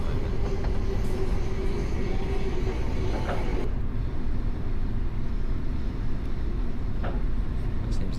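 A Class 377 electric train runs along the Brighton Main Line in a train simulator game, a steady loud rumble and rail noise throughout with faint clicks, no voices.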